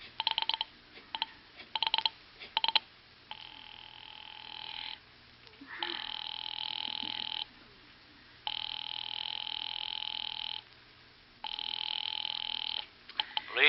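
An old-fashioned telephone rings at a police department in a suspense radio drama: a few quick clicks and short bursts, then long, even rings repeated four times with brief silences between, loud and close, no talk.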